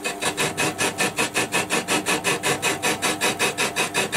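A metal lathe takes a light scratch pass on cast iron, giving a rhythmic, evenly pulsing scraping rasp that repeats several times a second, close and loud, with no talk.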